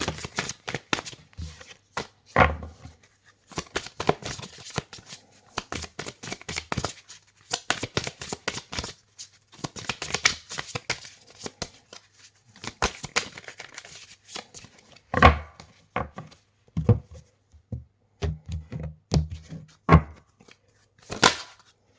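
Oracle cards of African goddesses being shuffled by hand, a long run of crisp, rapid riffling and slapping bursts with short pauses, close and loud, with no talking.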